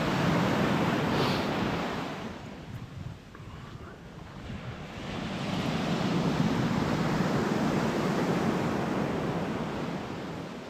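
Sea waves wash onto a shore lined with trees under light drizzle, a continuous rushing surf with wind noise that dips briefly and then swells again, with no voices.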